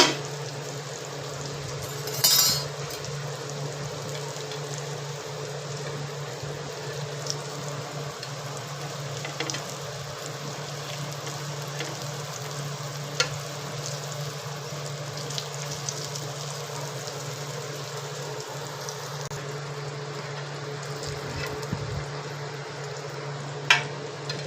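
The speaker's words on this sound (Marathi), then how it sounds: "चांगली करपूस अशी शेकून घ्यायची, तळून घ्यायची" Bitter gourd slices fry in a pan with a steady, even sizzle that runs throughout, close and moderately loud, with a few small pops and clinks and no talking.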